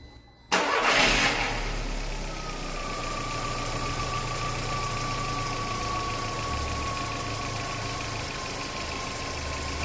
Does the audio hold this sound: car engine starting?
yes